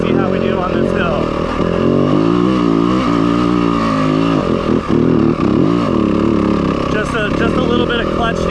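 A Yamaha WR250F dirt bike engine pulls up a hill in second gear, a loud, close, steady drone that rises and dips with throttle changes throughout, with talk from the rider over it.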